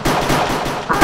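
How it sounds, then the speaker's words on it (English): Rapid gunfire from a video game rattles on continuously at close range, a dense burst of shots that swells louder toward the end. "What is with the gun shots?"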